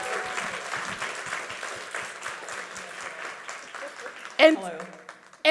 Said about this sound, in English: Y'all clap it up for Grace one